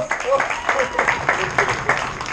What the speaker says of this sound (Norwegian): gi en applaus til både Kasper og Tobias